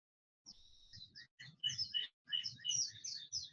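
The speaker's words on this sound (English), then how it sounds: "I have the same birds tweeting in my house as you do" Small birds tweet inside a house in a rapid run of bright chirps after a brief silence, fairly faint and unaccompanied, with gaps between the bursts.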